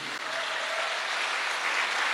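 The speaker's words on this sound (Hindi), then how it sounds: "एक जोरदार तालियां होनी चाहिए" Brief burst of audience applause at a business seminar in India, a dense steady wash of many hands clapping, fairly faint and distant with no speech.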